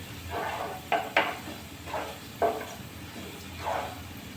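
Browning onions are stirred in a pot, with a soft sizzling bed broken by several close scraping and clanking strokes of the spoon at irregular intervals.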